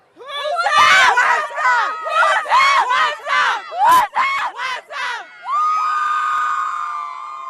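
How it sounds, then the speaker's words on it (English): School cheerleaders shout a rhythmic chant in unison at a basketball halftime, loud, close voices punching out syllables in bursts, ending with a sustained group yell. "What do you think is one of your favorite cheers to get the crowd pumped up?"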